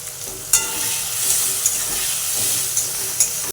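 Ground coriander, turmeric and red chili powder fry in hot oil, a loud, close, hissing sizzle punctuated by several crisp pops, with no one speaking.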